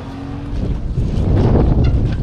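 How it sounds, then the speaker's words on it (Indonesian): Strong southerly wind gusting over a fishing raft, a loud broadband rush of buffeting wind noise across the microphone, swelling in the second half, with no speech. "Wah, angin padu ah."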